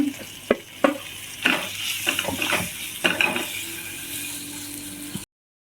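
Garlic and green chili with red chili powder sizzle and are stirred in a pan for a potato filling, with a steady frying hiss broken by scraping and clacking strokes of the spoon, close and with no voices.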